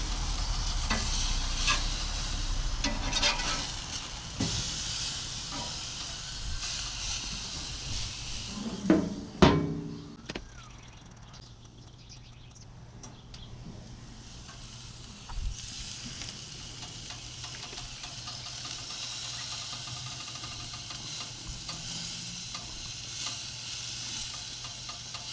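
Coffee-molasses pork chops sizzle on a grill with a steady hiss, broken around the middle by a few sharp clanks and a thump as the meat is turned, then settling back to an even sizzle.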